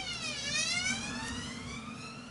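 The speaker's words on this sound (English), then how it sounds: "Bloody ambulance." An ambulance siren sweeps past nearby, its wailing tone rising and falling steadily and loud throughout with traffic rumble underneath.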